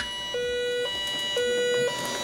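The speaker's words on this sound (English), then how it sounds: "do you know what that siren is?" A steady two-tone alert siren sounds in long even pulses with short gaps between them, fairly loud and alone, with no voices.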